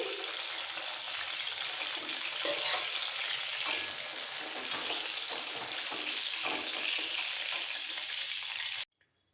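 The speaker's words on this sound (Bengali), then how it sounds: "বাকি আরো দু পিস ভেজে আমি রান্নাটা দেখাচ্ছি" Pieces of pomfret fish fry in hot oil with a continuous bright sizzle and occasional stirring, then the sound stops abruptly.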